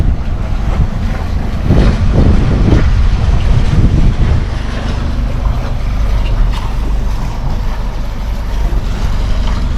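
A sailboat with sails dropped motors in toward an anchorage, a low engine drone and hull noise rumbling steadily under heavy wind buffeting on the microphone and surrounding wave wash.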